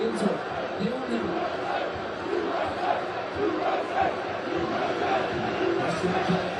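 A football fan crowd at a FIFA fan zone in Washington, D.C., watching USA vs Bosnia, with steady crowd noise, scattered shouts and chanting, and voices talking throughout.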